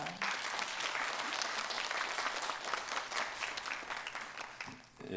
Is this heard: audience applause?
yes